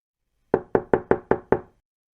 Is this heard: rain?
no